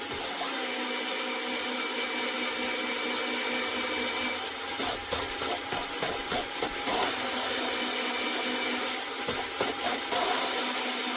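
Valves on a Crossley 1040 engine head being lapped, giving a steady gritty hiss with faint scraping, rubbing bursts in the middle and at the end, heard close up with no talking.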